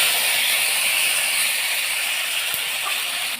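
Ground spice paste hits hot oil in a pan for Bengali prawn malai curry, already holding dried chilli, bay leaves, cloves, cardamom and cinnamon, giving a loud, continuous close sizzle and hiss that barely varies.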